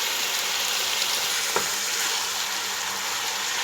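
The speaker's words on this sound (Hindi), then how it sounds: "दूसरे चूल्हे पे हमारे प्याज फ्राई हो रहे हैं।" Onions frying in a pan on a second stove burner while making BBQ chicken biryani, a steady close broadband sizzle with one brief stir clatter midway, no talking.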